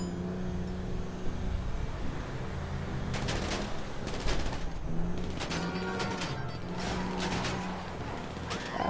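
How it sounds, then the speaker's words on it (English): Bursts of automatic and single-shot gunfire in GTA 5 crackle in quick clusters over a constant car engine rumble, loud and close, with no voices. "Stop shooting, mate."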